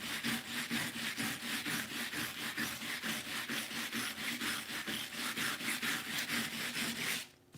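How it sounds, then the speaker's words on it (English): A stiff plastic-bristled scrub brush scrubs back and forth over metallic foil in steady, rhythmic rasping strokes that run continuously and fairly loud, stopping abruptly near the end. "they are plastic bristles, they're stiff, and then just scrub back and forth"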